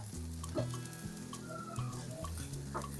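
Chopped garlic and ginger sizzle in a little oil in a pan while a spoon scrapes and stirs in quick repeated strokes, the frying hiss steady and close throughout.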